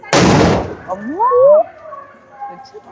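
A sharp, loud firecracker burst opens, followed by quieter whistling tones and a few faint pops as it fades.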